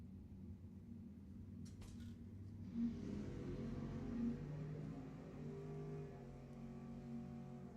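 Drag race at Lebanon Valley Dragway, a Chevrolet Vega and a Camaro in a NED Summit ET final, heard as a loud, steady engine rumble with layered harmonic drone and brief surges, no talking.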